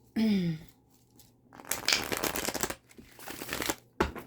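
Crisp riffling and snapping of a tarot card deck being shuffled, in a couple of bursts with brief pauses, close and fairly loud.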